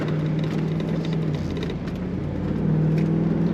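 A 2004 Chevrolet SSR convertible with automatic transmission, its engine idling with a steady low exhaust rumble close by that swells slightly toward the end; no one speaks.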